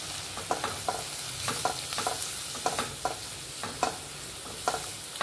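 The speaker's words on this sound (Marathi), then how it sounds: "आता हे सगळे मसाले आपण पुन्हा एकदा छानपैकी परतून घेणार आहे" Ginger garlic paste, coriander-cumin powder and other spices sauté in a pan for veg dalcha, with a steady sizzle broken by repeated scraping stirs from a spoon, close and fairly loud.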